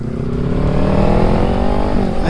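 A big bike, a Kawasaki Ninja 400 or H2, cruising along a road in New Zealand, its engine a steady, close, loud drone with rising harmonic tones as it gathers speed, plus wind rumble throughout.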